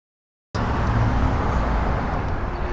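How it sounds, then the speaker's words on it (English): Traffic on Flamingo Road in Las Vegas, a steady, fairly loud wash of passing cars and road noise that starts abruptly and continues without a break. "There's the traffic coming down Flamingo there"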